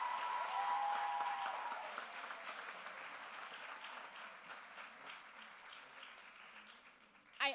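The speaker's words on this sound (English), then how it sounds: "Another round of applause for Raheem, please." A round of applause at a community college graduation ceremony, a soft, steady clapping from the audience that gradually thins out, with a sharp louder burst right at the end.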